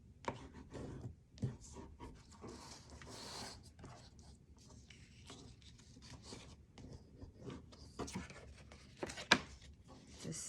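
Paper being creased and folded along intersecting lines for a snow-themed papercraft page, soft rasping and rubbing strokes near and quiet, with someone talking softly over it.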